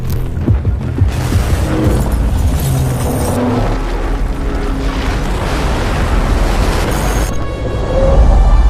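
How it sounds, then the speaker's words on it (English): A tower collapses in a video game explosion, heard as a loud, dense rumbling roar of crumbling debris and booms that carries on for several seconds without speech. "this whole tower gets destroyed once the underlying pillars are taken out"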